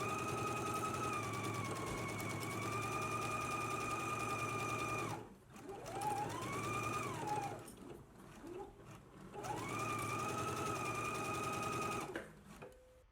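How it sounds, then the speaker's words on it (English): A sewing machine stitches a 5/8 inch seam allowance on a McCall's M8530 garment, with long steady runs of motor whir broken by brief stops and restarts. "we can go ahead and stitch in a 5/8 of an inch seam allowance"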